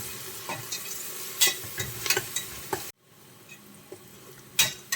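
Onions sautéing with salt in a pan for fried chicken dum biryani give a steady low sizzle, broken by sharp spatula scrapes and taps, then a sudden drop to a quieter sizzle with a few more stirs.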